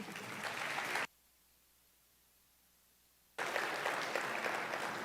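An audience at an intelligence conference applauds to welcome a panel, a dense burst of clapping that stops abruptly, leaves a couple of seconds of near silence, then resumes just as full.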